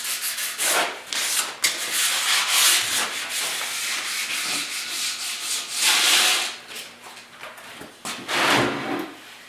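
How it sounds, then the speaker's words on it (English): Primer on a rusty tire rim is scuffed by hand sanding, close rasping strokes in an irregular back-and-forth rhythm, alone without talk. "Scuffing up the primer so that you know that it's going to stick well."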